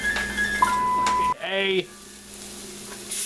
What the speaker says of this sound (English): Now we're going to add our half a teaspoon of minced garlic.